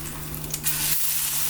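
Food sizzles in an iron frying pan at a breakfast cook-up of eggs, sausages and pancakes, a steady close crackling hiss with a constant low hum underneath and a brief scraping stir partway through.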